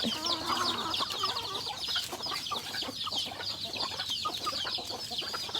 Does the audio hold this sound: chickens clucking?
yes